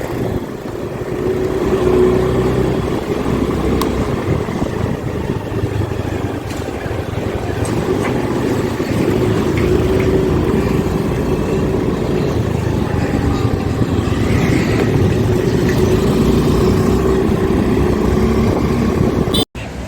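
Steady loud engine and road drone from a vehicle travelling on the Western Express Highway near Mumbai, continuous wind and traffic rumble throughout with no talking.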